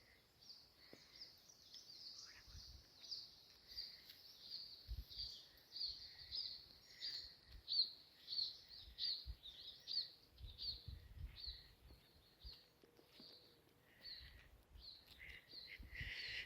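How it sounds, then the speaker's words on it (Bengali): Birds call in a forest, faint chirps and high repeated notes scattered through a quiet stretch, with soft low rustles and footsteps underneath and no talk. "পাখির আওয়াজ"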